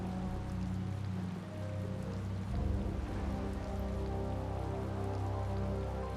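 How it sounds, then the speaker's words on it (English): Steady rain falls in the video game Tales of Vesperia, a constant soft patter and wash of drops on surfaces with a low rumble underneath, even and unbroken, moderately quiet. "Also, this rain is just getting on me."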